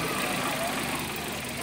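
A misfiring 2010 car engine idles roughly with no RPM and the check-engine light on, giving a steady, close, uneven drone under background noise and talk.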